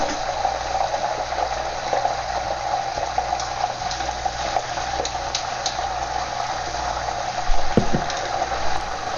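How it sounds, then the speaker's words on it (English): Hot oil in a wok sputters and bubbles steadily as spinach deep fries, a dense continuous crackling hiss, fairly loud and close, with a low hum underneath and no talk. "You see how the oil sputters like crazy when you throw the spinach in?"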